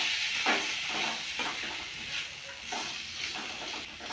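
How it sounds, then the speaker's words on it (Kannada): Tomatoes, with chopped onion, frying in a pan for vegetable rice, giving a steady close sizzle and hiss with a few soft stirring scrapes, no voices. "ಟೊಮೆಟೊ ಹಾಕಿ ಚೆನ್ನಾಗಿ ಫ್ರೈ ಮಾಡಿ."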